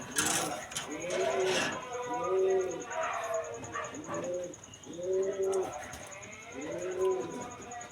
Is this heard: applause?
no